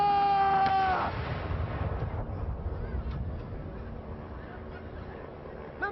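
A ceremonial artillery gun booms in the Royal Park, one of six guns lined up abreast, a single loud blast at the start that rolls away into a long fading rumble.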